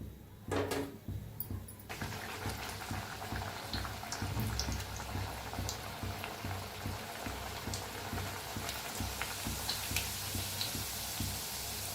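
Tomato puris fry in hot oil with a steady, close bubbling sizzle and small ticking pops, and a brief knock comes near the start. No one speaks.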